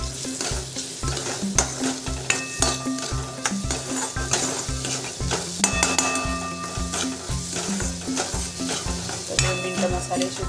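Spices sizzle and fry steadily in a hot pan for murmura poha while a utensil stirs and scrapes with a regular rhythmic beat, loud and close, with occasional light clinks of metal.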